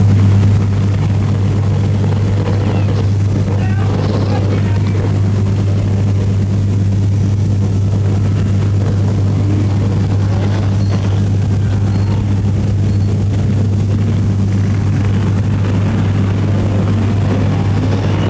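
Race cars circulating on an oval track during a restart, a steady loud drone of engines with a heavy low hum throughout, passing cars swelling faintly in and out, with no talk.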